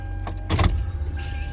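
A 2013 Toyota Sienna minivan with about 92,000 miles starts up: a brief, close whirring crank burst that settles into a low, steady idle hum.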